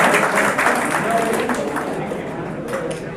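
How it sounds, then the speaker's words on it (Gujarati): A hall audience at a district pensioners' general meeting claps together, a continuous patter of applause with voices murmuring through it, fading slightly toward the end. "આપણે સૌ તાળીઓથી તો વધારીએ ભાઈ."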